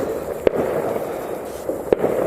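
Fireworks go off outdoors in two sharp, separate bangs about a second and a half apart, heard from a moderate distance over steady background noise near a yard with hens and geese.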